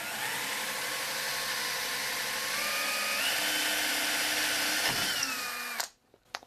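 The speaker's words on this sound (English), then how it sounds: "You hear that clunk? That was the bottom of the dowel getting down to the bottom of the mortise." A power drill bores down through a wooden dowel into a mortise while repairing broken wood furniture, a close continuous whine that shifts pitch, then stops abruptly with a short clunk.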